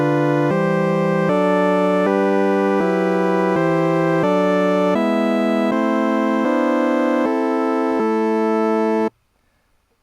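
A sequence of synth chords from the Xfer Cthulhu chord plugin, one struck about every half second in a steady rhythm, rich and sustained, playing alone and cutting off abruptly near the end.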